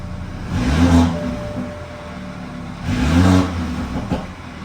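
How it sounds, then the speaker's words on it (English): A BMW 328i with a Remus exhaust revs twice, each burst climbing and falling back to a burbling idle, loud and close with no talk. "let you guys listen to what the exhaust sounds like at the moment"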